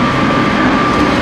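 Loud, continuous rumble of an 8000 series limited express train running at speed on the Yosan Line rails after leaving Matsuyama, with a steady droning hum and rattling texture throughout.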